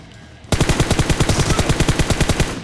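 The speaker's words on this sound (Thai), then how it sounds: "เพื่อนมันยิงมา" Rapid automatic gunfire from a PUBG Mobile match bursts in after a brief quiet moment and keeps up a steady, loud rattle of evenly spaced shots to the end.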